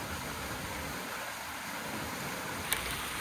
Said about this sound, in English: there's a beautiful waterfall up here, as you can probably hear in the background